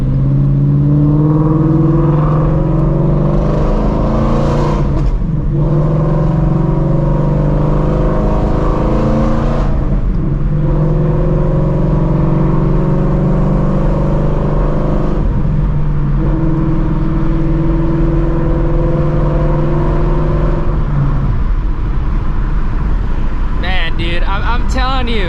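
A Shelby GT350 Mustang's Voodoo V8 drones loudly from inside the car during regular driving, rising through several gears with brief dips at each shift, and a voice talks over it.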